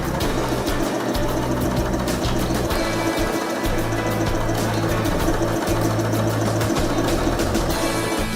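A Skyline S5 sewing machine runs steadily through a stitch, its needle mechanism whirring and clattering in a fast, continuous rhythm close by, with no pauses across the stretch.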